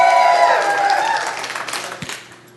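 Studio audience applause on a comedy TV show swells at first, then thins into scattered claps and fades over a few seconds.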